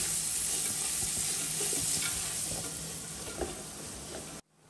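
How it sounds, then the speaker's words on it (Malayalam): Onions sauté in coconut oil in a pan, a soft continuous sizzle with occasional stirring scrapes, close and fairly quiet, ending abruptly. "നമുക്ക് അതിന് വെച്ചിരിക്കുന്ന സവാള ഒക്കെ ഇട്ട് കൊടുക്കാം നല്ല രീതിയിൽ വഴറ്റെടുക്ക സവാള"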